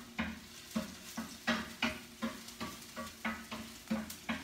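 Onion and peppers sizzle in a hot pan while being stirred, producing steady sizzling broken by a regular series of scraping stirs, about ten in quick rhythm, close and moderately loud.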